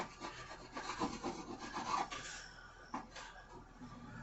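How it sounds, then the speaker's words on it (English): A blade scrapes sticky tape residue off linoleum inside a camp trailer, making steady close-up rasping strokes. The rubbing is quiet and alone, with a rhythmic back-and-forth scrape. "you scrape up most of the sticky stuff with it."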